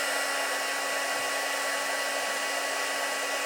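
A heat embossing tool blows a steady, loud whirring hiss of hot air over embossing powder on metal brads, continuous and close with no talking.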